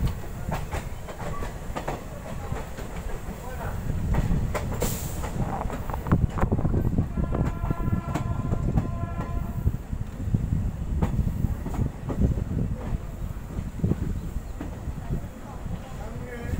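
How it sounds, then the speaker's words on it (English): Passenger train at Gorumahisani station pulling away, a steady rumble of wagons with rhythmic clickety-clack and occasional wheel squeal, close and fairly loud, while someone talks over it. "This train is just going back."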